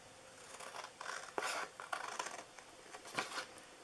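Scissors snipping through paper while cutting a fold-flat box, a series of quiet, close crisp cuts in irregular bursts with no talk.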